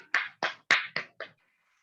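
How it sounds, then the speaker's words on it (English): Five sharp, evenly spaced claps ring out close and alone after an award presentation, each a crisp broadband burst that stops abruptly, leaving near-silence. "Can we have a big round of applause for Ms."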